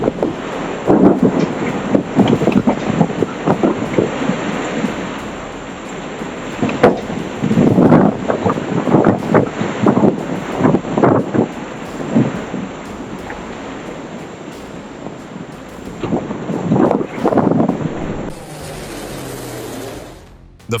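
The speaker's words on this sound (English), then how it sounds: "gusts were strong enough to rip roofs clean off houses" Strong New Zealand wind, gusts strong enough to rip roofs off houses, buffets the microphone in repeated roaring gusts, rising and falling irregularly, with a rushing, surf-like background.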